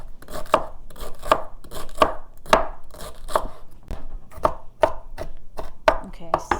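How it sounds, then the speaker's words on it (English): Knife chopping celery on a cutting board, a steady series of about a dozen sharp, close, evenly spaced chops with no talking. "So I'm gonna chop up some celery now."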